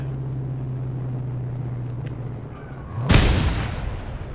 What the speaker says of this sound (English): can I fire the shotgun from here?